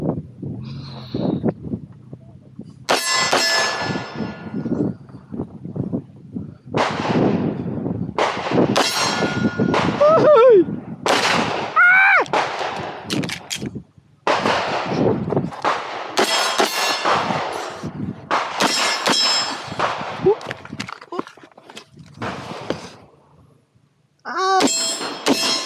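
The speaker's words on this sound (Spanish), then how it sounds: "Vamos a disparar de pie, de rodilla en squat y acostado en el piso." Handgun shots ring out in bursts during a tactical shooting drill fired standing, kneeling and lying prone, with loud sharp reports, metallic clangs and pauses between strings.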